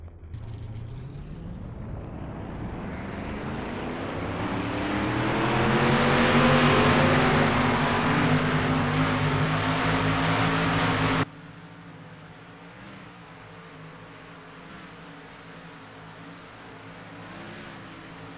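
Race cars in a Piston Cup racing video game circle the New Hampshire Motor Speedway oval, a loud engine drone that swells as a car passes close, then cuts abruptly to a quieter, distant rumble.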